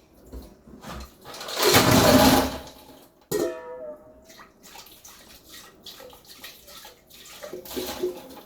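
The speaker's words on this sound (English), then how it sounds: "I just pour it like that inside the sink." Hot water from boiled periwinkles is poured into a kitchen sink, with a loud, splashing gush that lasts a couple of seconds. Softer trickles, drips and clattering follow.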